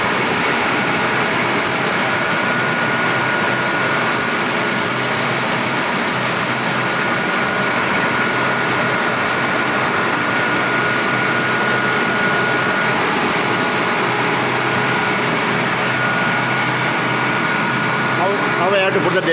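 Pelton turbine running steadily in a fluid mechanics lab, a loud continuous broadband roar of rushing water and machinery with a faint tonal whine, unbroken throughout, with speech faintly present underneath.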